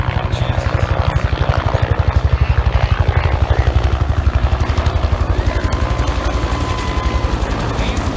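A Bell UH-1 Iroquois helicopter flies at an air show, its rotor beating loud and close in a fast steady thump with engine whine over it for about eight seconds.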